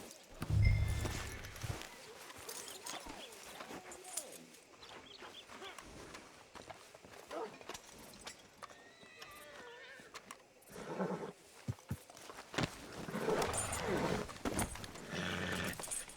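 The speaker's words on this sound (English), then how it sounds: "Hitch your horse up here." Horse hooves clip-clopping and a short whinny from Red Dead Redemption 2, heard near and fairly quiet within game ambience, with a strong thump near the start and scattered voices in the background.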